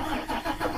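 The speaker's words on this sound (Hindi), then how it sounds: "बर्तमान गाड़ी स्टार्ट हो गला" A medium car engine cranks and catches, turning over in uneven bursts as it starts up close by, with no talking over it.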